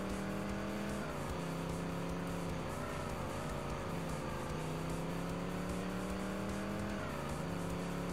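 A truck engine in the video game TNN Motorsports Hardcore TR drones continuously at a steady pitch. It rises and dips a few times with throttle changes, and the sound is constant and dense.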